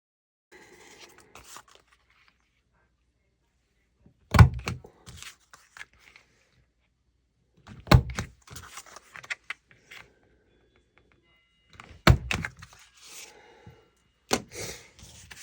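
A handheld corner rounder punch clips the corners of paper for a junk journal page: four sharp, separate crunching snaps, evenly spaced a few seconds apart, close by and with no talking.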